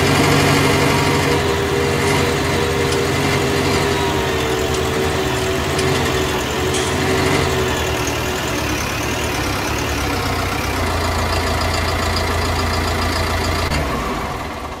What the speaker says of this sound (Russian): Так, отправляем наш трактор домой.